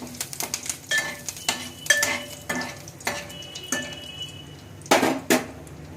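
Curry leaves stirred into a pan of fennel seeds browning in oil: a spoon clinks and scrapes against the metal pan in irregular close knocks over a faint sizzle, with no talking.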